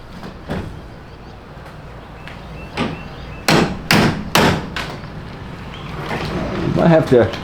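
A few sharp, loud hammer strikes land in quick succession, with scattered lighter knocks and clatter around them, while removing a box truck roll door.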